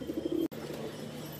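A Madrasi pigeon gives a short, close coo of a few quick throaty pulses, followed by a brief cut and then a faint, steady background.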